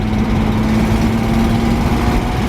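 A Datsun 240C engine misfiring on one cylinder runs steadily and loudly up close, with a rough, uneven low rumble and a constant droning hum throughout.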